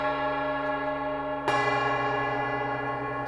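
A Paiste bronze gong struck in the very center with a medium rubber mallet, a rich sustained metallic hum already ringing, then a fresh strike swelling the bright shimmering tone.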